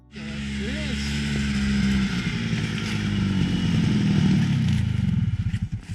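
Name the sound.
snowmobile riding past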